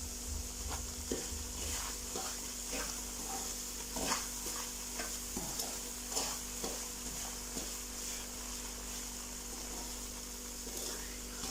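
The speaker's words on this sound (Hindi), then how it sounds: "बराबर चम्मच इसमें हिलाते रहना है ताकि सूजी नीचे ना लगे" A spoon stirs semolina roasting over a medium flame in a pan for jaggery halwa, giving repeated close scraping strokes over a soft, continuous hiss and low hum.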